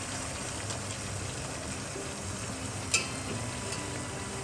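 Chicken pieces sizzling in a pan of hot oil for easy velvet chicken, a steady close frying hiss running the whole time with one brief clatter near the end.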